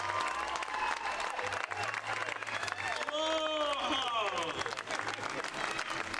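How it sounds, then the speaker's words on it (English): Continuous applause from a luau show audience in Maui, Hawaii, rolls on steadily under a voice and some cheering, with a crowd hubbub filling the background. "Big round of applause."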